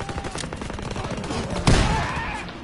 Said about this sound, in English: Daniel, they got fire on the right!